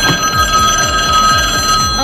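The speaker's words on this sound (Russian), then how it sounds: "Ага, телефон звонит." A telephone bell rings steadily and loudly inside the LEGO exhibition in Warsaw, its sustained high tone running through the whole clip over low, pulsing background noise.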